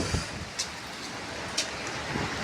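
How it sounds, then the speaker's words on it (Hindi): Monsoon rain beginning outdoors, a broad steady hiss with gusty wind noise across the microphone, plus a couple of brief brighter spatters. "देखो बरसात स्टार्ट हो गई है"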